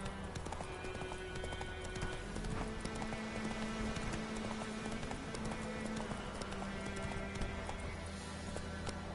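Roach, the horse in The Witcher 3, gallops with steady rhythmic hoofbeats, fairly close and continuous over a low background of game music and ambience, with no talk.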